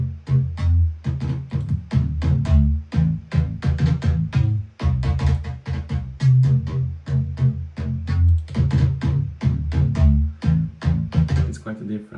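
Bass line run through EQ, compression, sidechain and stereo enhancer plugins, giving a punchy, pumping low-end groove with steady rhythmic hits that play continuously and loud, alone.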